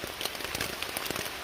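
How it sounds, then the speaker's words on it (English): Rain patters onto a tent on a hike along Virginia's Appalachian Trail, a close, dense spray of drops with scattered sharper taps over a steady hiss. "It's raining. I'm in the tent."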